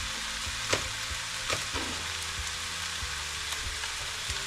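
Green onion ends sizzle in hot oil in a pan while egg fried rice is made, a steady loud frying hiss with occasional soft clacks of stirring, close up and without talk.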